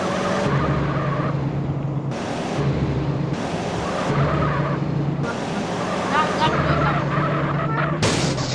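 A car drifts in the MTA San Andreas video game, its tires skidding and squealing in repeated bursts over a revving engine, loud and close, while voices talk over the game audio.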